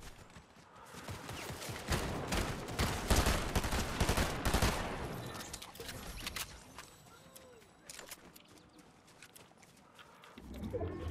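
Video game gunfire cracks in dense bursts through the first half, with loud overlapping shots that thin out later, under a busy mix of game effects.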